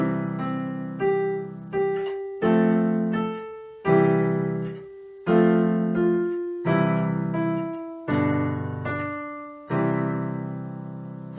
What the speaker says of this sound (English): So I'm gonna try to play the Twinkle Twinkle Little Star first with just G